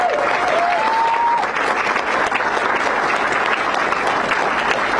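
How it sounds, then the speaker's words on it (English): A crowd at a legislation signing ceremony applauds two lawmakers, loud sustained clapping throughout with a brief tonal whistle-like note early on. "Once again, round of applause for Senator Kushner and Representative Sanchez."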